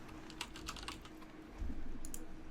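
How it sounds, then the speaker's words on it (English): Quick, light keystrokes tap out on a computer keyboard, a soft close-up burst of clicks followed by a brief pause and a few more presses. "so I'm gonna type in Chroma Key here"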